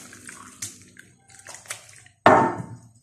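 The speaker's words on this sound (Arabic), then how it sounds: "باش نصبو عليه ماء دافي" Warm water poured over potato chips in a dish, several short splashes and trickles, then one louder, sustained pour near the end, close and clear without talk.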